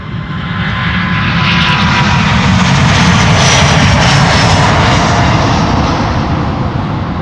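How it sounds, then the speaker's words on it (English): Jet engines of a Delta Airlines Airbus A330neo at Schiphol Airport, a loud, close, sustained roar with a whining high edge that swells slightly toward the middle and then holds, alone without talk. "Delta Airlines Flight 49 to New York JFK A330 Neo."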